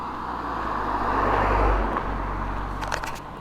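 Cars pass on nearby roads beside a cemetery in Cumberland, Rhode Island, on a daytime visit. A steady, fairly loud traffic roar swells as a vehicle goes by and then eases off, with a few faint clicks near the end.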